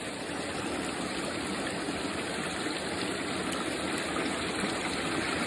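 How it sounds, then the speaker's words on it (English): A noisy waterfall near a beach in Normandy, France, roars as a steady, loud, broadband rush of falling water, continuous and close throughout with no talking. "it is quite a noisy waterfall, this one"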